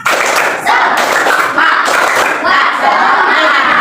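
A primary school class claps a rhythmic spirit clap together in a classroom, loud, fast and close, with a few voices calling out among the claps.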